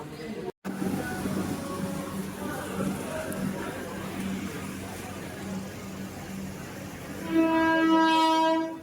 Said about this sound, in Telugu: ఇక్కడికి ఇప్పుడు ట్రైన్ వస్తుందంట.